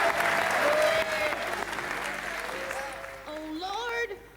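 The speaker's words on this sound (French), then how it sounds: "On l'applaudit." Studio audience applause on a French television programme, a full burst of clapping that fades gradually as a tonal voice or music with sliding pitches rises over it toward the end.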